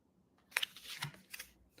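Tarot cards are shuffled by hand in a few quick riffling bursts, close and crisp, with short pauses between them and no talking.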